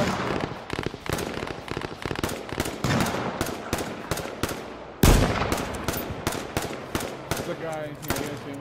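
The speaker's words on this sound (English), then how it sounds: "Shot behind us." Dense gunfire in the video game H1Z1 cracks out in rapid repeated bursts, loud and close, with a heavy burst midway and continued shots after it; voices talk faintly underneath.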